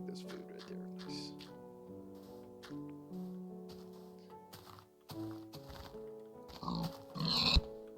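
Pig grunts from a Minecraft game, a few short oinks over steady game music, fairly clear and mid-level, with a louder burst of game sound near the end.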